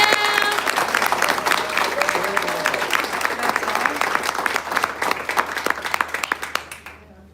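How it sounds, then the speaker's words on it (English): An event audience at an eagle festival claps for a presenter, a full burst of applause that stays strong for several seconds, then thins and fades out. "Applause for Martha Taylor."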